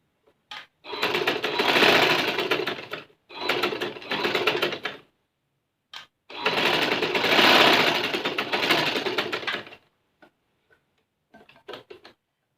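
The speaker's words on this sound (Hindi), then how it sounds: "अगेन ऊपर से थ्रेड को हम फिर दोबारा से स्टिच कर लेंगे कपड़े के ऊपर" An electric sewing machine stitches thread on cloth in three rapid, loud, close bursts of rattling stitching separated by short pauses, followed by a few faint clicks.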